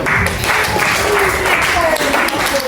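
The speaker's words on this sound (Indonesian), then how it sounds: "Beri tepuk tangan kepada kawan." Classroom applause for a classmate in an Islamic education lesson at a madrasah, dense continuous clapping from many students, loud and close, with a teacher's voice faintly over it.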